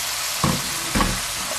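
Green chili peppers stir-frying in a pan over a constant sizzle, with two distinct scraping stirs of a spatula about half a second apart, close and clear.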